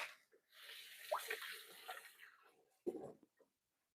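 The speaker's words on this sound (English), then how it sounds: "I'm just going to wash my hands so I don't bring any onion flavor over" Hands being rinsed under a running kitchen tap, a soft splashing stream in two short bursts with a pause between, fairly faint and close.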